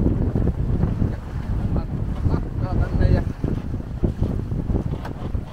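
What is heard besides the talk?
sailboat tacking in the wind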